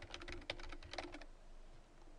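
A computer keyboard being typed on to enter a website address, a quick run of close, crisp key clicks for about a second, then quiet room tone.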